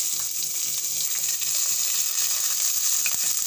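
Ginger and curry leaves sizzle in hot oil, giving a steady, close frying hiss that runs unbroken with a soft crackle underneath and one brief clink near the end.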